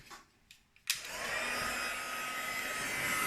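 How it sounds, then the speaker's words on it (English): After a few faint handling taps, a heat tool switches on with a sudden rise into a steady, loud blowing whoosh, close up, as it warms embossing powder on vellum for a card. "Grab my heat tool."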